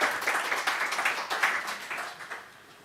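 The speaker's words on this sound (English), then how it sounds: "Please give me an applause for Anna." A short burst of applause from a small workshop audience, fairly quiet, with scattered claps tapering off toward the end.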